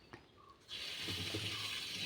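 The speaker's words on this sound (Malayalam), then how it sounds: "ഈ വെള്ളം നമുക്ക് അതിലേക്ക് ഒഴിച്ചു കൊടുക്കാം" A cup of water is poured into a frying pan holding sugar while making tutti frutti; a faint knock comes first, then a sudden, steady rushing pour runs to the end.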